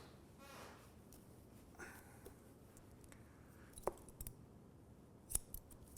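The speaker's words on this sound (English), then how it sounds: "So I'm going to cut one more section vertically, meaning towards the face." Scissors cut hair during a textured crop haircut, giving a few sharp, faint snips at irregular moments against a quiet room.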